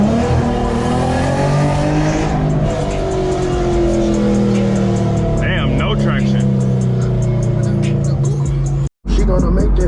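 Modified Infiniti G37 engine roaring loudly while driving around town, a sustained droning growl with shifting pitch and a brief cut near the end, heard alongside speech and music.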